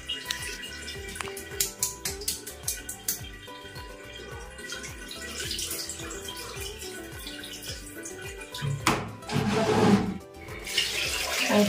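Water poured and splashed over a baby during a bath, a series of irregular close splashes and drips, then a heavier gush of pouring water near the end, with no talk.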